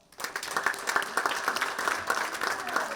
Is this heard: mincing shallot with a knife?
no